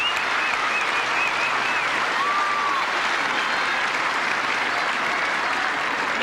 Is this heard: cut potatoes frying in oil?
no